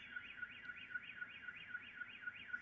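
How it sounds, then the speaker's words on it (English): A car alarm wails far off, its siren sweeping up and down in a steady repeating pattern, faint against the quiet. "You hear the car alarm going off in the distance."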